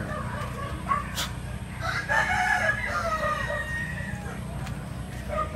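A Dome gamefowl rooster, bred from a black bully sire and a gold hen, crows once at a game farm in Taytay, Rizal, a clear mid-distance call rising over steady low background noise.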